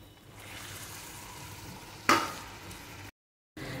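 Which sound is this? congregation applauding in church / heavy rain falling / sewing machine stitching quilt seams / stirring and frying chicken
stirring and frying chicken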